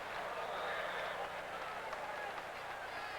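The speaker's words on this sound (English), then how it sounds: "What a crowd." A large stadium crowd at an NASL soccer match at RFK Stadium in 1983 roars and applauds in a steady, distant wash of cheering, faint beneath the broadcast.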